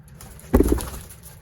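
A breeder pigeon, a female from a home breeding pair, gives one short, close coo that rises briefly out of quiet background hiss and fades within a fraction of a second.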